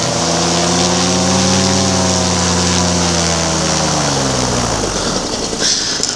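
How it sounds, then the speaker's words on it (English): A paramotor engine runs loud and close, a steady buzzing drone that rises slightly in pitch before settling, with wind rush over it and no talk. "The motor feels pretty good though."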